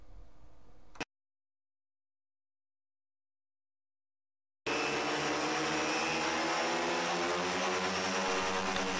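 A twin-engine agricultural spray plane drones steadily and loudly as it takes off after a stretch of silence, with a constant high-pitched whine and rumble.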